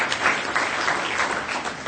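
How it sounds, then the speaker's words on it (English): Audience at an employee ownership conference in Ohio applauds as companies are called, a brief steady roar of many hands clapping at moderate loudness with no clear pauses. "save your applause"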